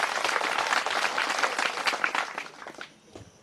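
A crowd at a Hindi poetry recital at a kavi sammelan breaks into loud, dense clapping that carries on strongly and then thins out toward the end.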